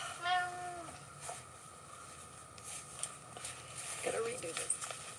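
A house cat meows a couple of times, a rising wavering cry at the start and a shorter one near the end, with faint background noise and light tapping between.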